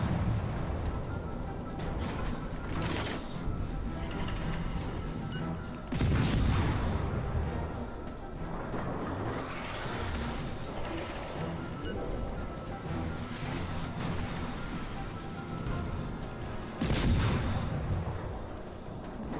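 German destroyer and cruiser naval guns fire in World of Warships: Legends, with heavy booming salvos near 6 and 17 seconds over a continuous rumble of battle and scattered distant shots.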